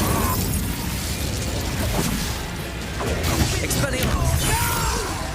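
Incendio fire spell cast in the video game Hogwarts Legacy, a burst of crackling, explosive impacts and crashes amid loud combat noise, with no clear speech.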